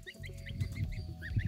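Goslings in a farmyard pen give repeated high cheeping calls, close and fairly quiet, overlapping with one another in a busy chatter.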